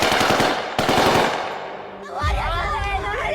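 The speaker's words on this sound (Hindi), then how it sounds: "सिक्योरिटी फोर्सेस ने इन प्रोटेस्टर्स पर फायरिंग कर दी।" Security forces open fire on protesters, a rapid, dense burst of gunfire crackling loudly at first, then cutting out before a confused wash of crowd noise and shouting rises behind it.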